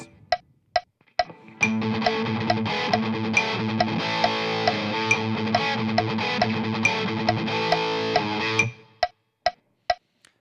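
A quick, driving distorted electric guitar riff from a song's verse at 138 bpm, framed by sharp clicks of a metronome before and after.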